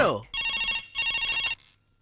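Telephone bell rings in two close, loud bursts after a short voice at the start, then falls silent.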